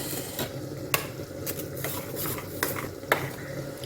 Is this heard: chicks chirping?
no